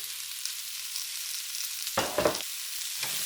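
Chopped mushrooms and broccoli sizzle steadily in a hot pan for black pepper steak, a close continuous frying hiss, with two short bursts of scraping as the vegetables are stirred around; no talking.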